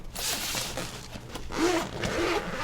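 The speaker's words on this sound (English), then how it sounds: "But you unzip like this" A three-way zipper on a gaming bag is pulled open in two long, close rasping strokes, loud and scratchy against light handling noise.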